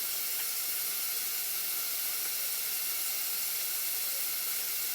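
Steady, hissing rush of tap water running into a sink while a menstrual cup is washed, constant and fairly close with no talking.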